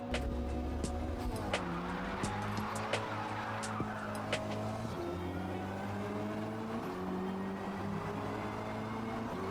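A car in the Forza racing game accelerates hard using a manual clutch, shifting at the redline. Loud, continuous engine revs climb and then drop at each gear change, with brief tire squeals.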